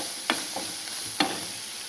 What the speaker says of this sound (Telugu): ఓ పక్కన బెండకాయ ఫ్రై అవుతుందండి, క్యారెట్ అవుతుంది.